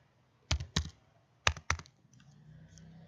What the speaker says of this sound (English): Then here type msinfo 32.